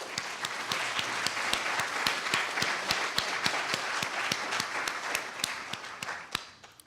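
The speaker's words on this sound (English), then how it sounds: "Let's please give our sponsors a big round of applause." An audience applauds sponsors at a collegiate new venture challenge event, a sustained round of clapping with sharp individual claps standing out, fading at the end.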